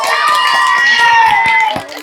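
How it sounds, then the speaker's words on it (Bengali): A village audience at an outdoor game contest cheers and claps for a contestant, a lively mix of shouts and scattered claps that fades near the end. "আমার এই প্রতিযোগীর জন্য জোরে করে করতালি হয়ে যাক"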